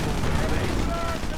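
MG42 machine gun fire in a World War II strategy game, a dense continuous rattle of loud gunfire filling the moment with no break, with battle noise layered in.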